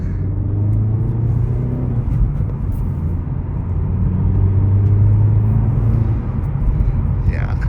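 A 2025 Hyundai Elantra N on the move, its engine and road noise forming a steady low rumble from inside the cabin, loud and continuous throughout with no clear revving peaks.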